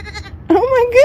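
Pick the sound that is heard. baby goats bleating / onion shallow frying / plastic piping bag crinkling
baby goats bleating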